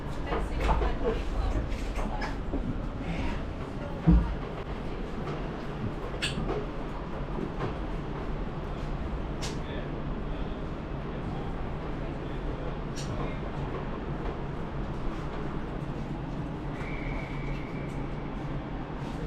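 Continuous low rumble and rattle of a moving South Western Railway passenger train in the UK, heard from inside the carriage, with a brief thump and faint voices underneath.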